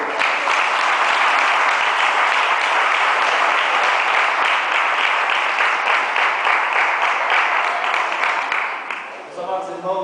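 Church congregation at a Holy Communion evening service breaking into sustained, dense applause that fills the room, fading toward the end as a voice begins speaking.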